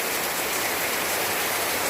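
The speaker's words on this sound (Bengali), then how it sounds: "প্রত্যেক দিন ঠিক এরকম সময় এইভাবে ঝমঝম করে বৃষ্টি চলে আসছে আর বৃষ্টি হয়েই যাচ্ছে।" Heavy rain pouring down in a dense, steady hiss, loud and unbroken, with no voices.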